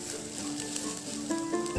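Pulao mixture sizzles in a hot pan as it is stirred, a close, steady frying hiss with a few soft scrapes of the spoon near the end.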